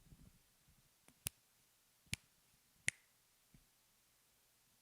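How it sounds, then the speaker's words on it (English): A few sharp finger snaps ring out alone in a quiet room, spaced roughly a second apart, with a softer click or two between them. "Haley, let's hear your snaps."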